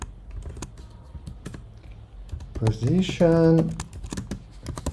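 Rapid clicks of fingers typing code on a computer keyboard, a close, uneven patter of keystrokes that carries on beneath a voice speaking partway through.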